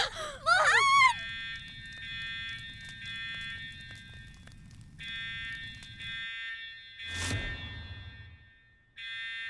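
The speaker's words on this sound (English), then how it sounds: "The alarm is ringing, but Mohan, what's going on?" A fire alarm rings in steady, repeating harmonic tones, broken by brief pauses, with a short shout at the start and a thud midway.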